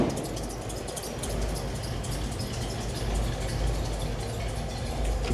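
Ford Bronco engine idling steadily with a low continuous rumble, joined by a faint whirring fan and some outdoor hiss; no speech, level even throughout.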